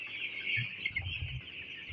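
Broiler chickens cluck softly and repeatedly over a steady high-pitched hiss, with low murmuring calls from a nearby flock.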